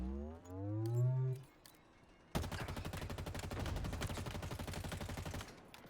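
Gunfire in the Halo video game: after a brief revving vehicle sound, a sustained rapid burst of automatic fire rattles steadily for several seconds.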